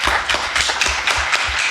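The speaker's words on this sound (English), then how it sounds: "Round of applause for him." An audience at a startup pitch event claps to welcome the next founder on stage, producing a quick, fairly loud patter of hand claps with no voices over it.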